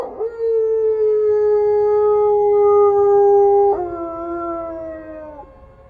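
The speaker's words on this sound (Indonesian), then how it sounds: "Lolongan anjing yang bersahut-sahutan ditingkahi suara angin di area perkuburan itu" Dogs howl at a graveyard in long, sustained, wavering tones, a second howl joining and sliding downward toward the end, loud and fairly close.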